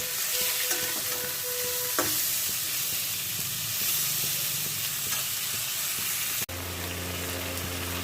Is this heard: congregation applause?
no